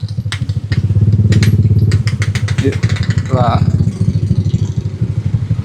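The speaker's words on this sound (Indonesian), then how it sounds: "Kelak awas motor." A motorcycle engine chugs and revs nearby on a rough, potholed village road in Sindangkerta, West Bandung, its pulsing mid-pitched putter loud under brief casual talk from a rider.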